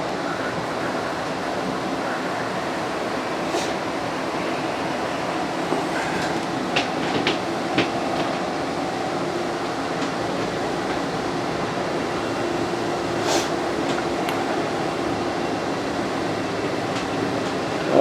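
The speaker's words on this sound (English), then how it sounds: "Your slide room is in right now, so we'll send it out right here." Slide room motor on a 2024 Flagstaff Shamrock 235S travel trailer extending the slide-out, a steady loud mechanical rumble and drone with a few faint clicks, continuous for the whole stretch with no talking.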